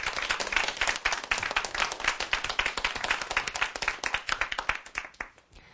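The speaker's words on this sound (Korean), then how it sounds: "큰 박수 네, 부탁드리겠습니다" An audience in a lecture hall applauds after a talk, with dense, even clapping that holds steady for several seconds before fading at the end.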